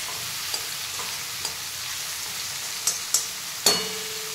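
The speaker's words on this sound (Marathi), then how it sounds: "आता आपला टमाटा थोडासा वेळ शिजायचा ते 2-3 मिनिटं" Stuffed tomatoes cooking in a pan, a soft steady sizzle with a few sharp pops and clicks near the end, close and quiet, no voices.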